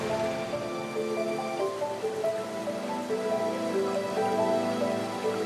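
Detian Waterfall on the river in Guangxi, where many white streams of water plunge more than 60 metres side by side over a cliff, giving a steady, dense roar and hiss of falling water that holds at an even level throughout.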